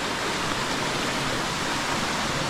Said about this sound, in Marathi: रस्त्यावरून वाहणारं पाणी आणि आता पडतोय पाऊस